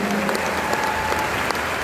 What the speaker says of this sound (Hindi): ताली बजाना पड़ेगा